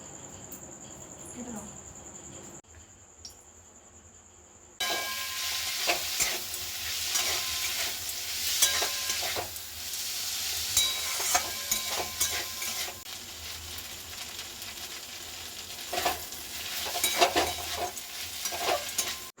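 Chowmein stir-fried in a pan with whatever was at hand in a home kitchen, a steady close sizzle broken by frequent scraping stirs, after a few quieter seconds at the start.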